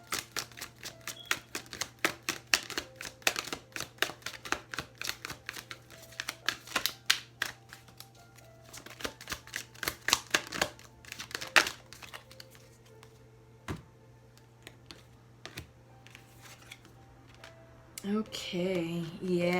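Oracle cards from an Angel Messages deck being shuffled and pulled, giving many quick dry crisp snaps and riffles in uneven bursts close up, with a low steady hum beneath, then a brief stretch of louder rustling at the end.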